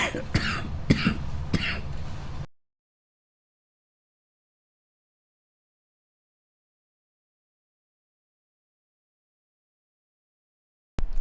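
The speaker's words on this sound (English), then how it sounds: "Sorry about the coughing." A person coughs several times in quick succession, close and fairly loud, followed by a long stretch of silence.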